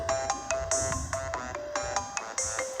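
An iPhone ringtone plays on its own, a bright melodic pattern of repeated chiming tones in quick rhythmic bursts, close and clear.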